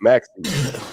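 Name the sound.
cough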